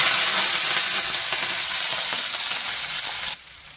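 Mustard seeds, urad dal, ginger and green chillies sizzle and crackle in hot oil for a tempering, a steady close frying hiss that cuts off abruptly near the end.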